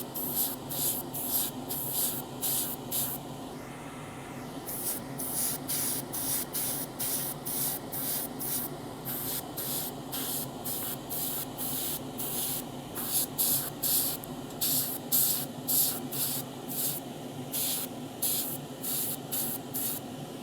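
Short bursts from a spray can or airbrush hiss in quick succession as metallic grey paint goes onto the handlebar ends of a 1:12 Tamiya Yamaha YZF-R1M model, close and steady over a faint background hum, no voices.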